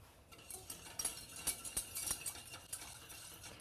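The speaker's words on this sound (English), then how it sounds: "give it a little bit of a whisk" A whisk stirs sugar and water in a pot for simple syrup, giving faint, irregular metallic clinks and scrapes against the pan at close range in a quiet kitchen.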